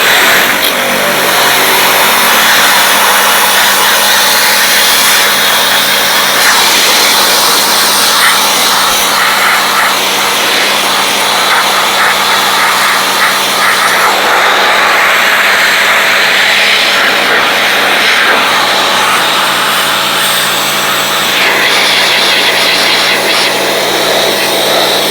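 A jet wash pressure washer hisses loudly and continuously while blasting a salvaged Fiat 500 Sport, a steady close-up spray with a faint engine-like hum underneath and no talking.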